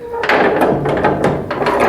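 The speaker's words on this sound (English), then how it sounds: "And the door shuts absolutely, positively" Several dull knocks and thuds of a heavy chipper truck door being shut and tested, repeated in quick succession over a steady background hum.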